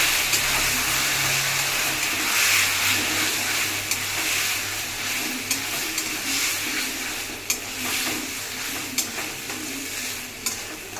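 Taro greens cooking with grated coconut hiss steadily in a pan, churned by continuous stirring with occasional sharp ticks of the utensil against the metal, close and fairly loud throughout.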